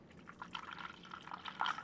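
Non-alcoholic sparkling wine is poured into a cocktail glass to top a French 75-style drink with tonic, giving a quiet fizzing trickle with small drips and bubbles, close and alone.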